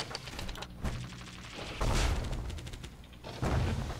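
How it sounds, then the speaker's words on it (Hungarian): Mortar weapon firing in the video game Bastion, heavy booming blasts with whooshing bursts at irregular intervals over a dense game soundscape. "Nagyon jó ez a mortál."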